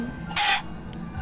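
A chicken from the video game Minecraft gives a short, bright squawk-like cluck, loud and up close, followed by a fainter second chirp.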